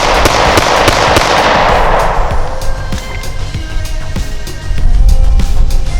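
Springfield Hellcat pistol firing steel-cased ammunition in a burst of loud, sharp cracks, the opening shots dense and noisy, then further sharp reports ringing out near and close.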